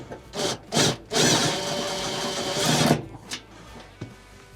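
Screw being driven in to attach the bake element of a Whirlpool stove, several short close scraping and grinding bursts followed by a longer continuous turning sound, then a few light clicks.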